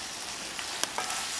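Venison stir fry sizzles steadily in a pan, a continuous bright hiss with a few faint pops and ticks of utensil contact near the end, close and fairly quiet, with no voices.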